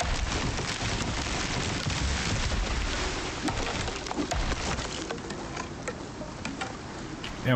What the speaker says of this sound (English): Oh, here comes some big rain.